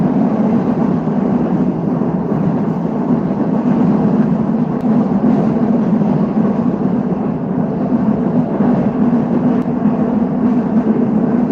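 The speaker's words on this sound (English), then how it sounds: "The train is too loud, so I can't hear my own voice." A train passes close by on a snowy day in Moscow, a loud, continuous heavy rumble with steady low roar and hiss that never lets up across the whole stretch, drowning out everything else.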